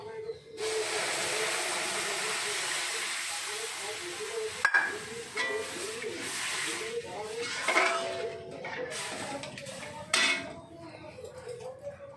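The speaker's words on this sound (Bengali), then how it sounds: "এবার আমি এখানে এই যে দুধটা দিয়ে দেবো।" Milk poured into hot, lightly browned semolina in a pan sets off a sudden loud hiss of steam that keeps bubbling and sputtering, with a few metallic clinks of the pan and spoon.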